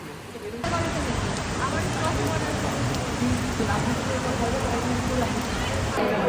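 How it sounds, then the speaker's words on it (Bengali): Dense, steady rain hisses continuously, a broad wash of drops on surfaces, with faint background voices mixed in. "প্রচুর বৃষ্টি হয়েছে"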